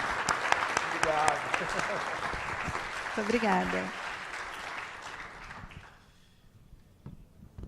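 An audience at a talk event claps for a birthday, steady applause close by that fades out near the end, with a woman's brief thanks heard over it.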